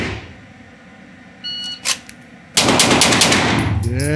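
A Sig Sauer pistol fires four rapid shots on a shooting range, loud and close. Short beeps from a shot timer come just before the burst.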